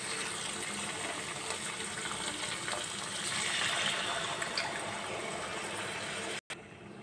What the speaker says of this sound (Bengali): এবার আমি ছোটো বাটির 1 বাটি জল দিয়ে